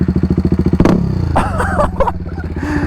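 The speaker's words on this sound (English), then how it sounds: "it's a nice looking bike, and it sounds mad too" A BMW G310R motorcycle fitted with an Akrapovic exhaust idles with a fast loud pulsing putter, then blips into a sharp rev and settles back to a rough idle, close by with no speech.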